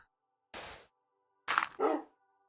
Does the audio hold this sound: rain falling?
no